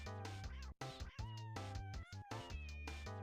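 Kittens meowing repeatedly, a run of high, wavering cries with short gaps between them, close and fairly loud, set against a steady musical background.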